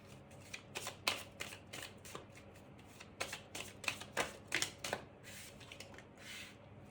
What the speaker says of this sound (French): je vais prendre quelques cartes de l'oracle G.